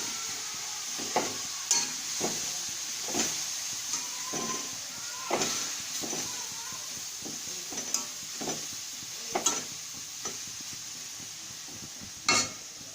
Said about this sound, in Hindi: अब इसे चम्मच से हिला रही हूँ।